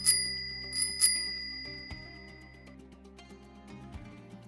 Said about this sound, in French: As-tu reconnu la sonnette de vélo ?